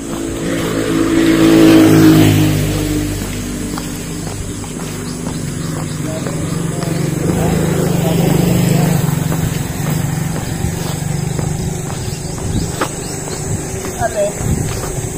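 Highway traffic roars past up close. Vehicle passes swell and fade in broad rumbling waves while a person talks over the noise.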